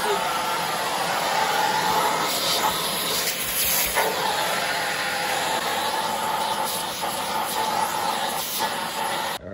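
A vacuum cleaner roars continuously with a steady airy whine and hiss, running close by for the whole stretch before cutting off at the end.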